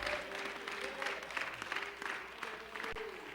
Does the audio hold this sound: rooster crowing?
no